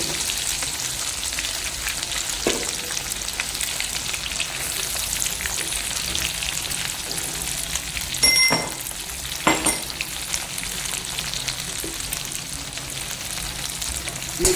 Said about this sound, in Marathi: आता अद्रक लसूणची पेस्ट टाकते याच्यामध्ये.